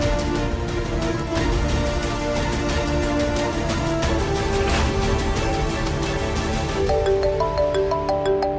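A phone rings repeatedly in a Hindi TV drama, a loud, steady electronic ringtone that repeats in even pulses throughout, with a melodic tone pattern near the end.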